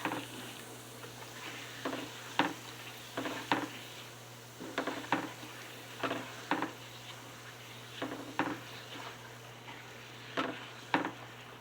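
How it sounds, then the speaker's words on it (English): A spoon stirs and scrapes a browning Southern breakfast gravy base in a pan over high heat, making regular, close scraping strokes about once a second over a low, steady sizzle. No voices. "this is a pretty high heat, so you got to keep stirring it, or it will burn."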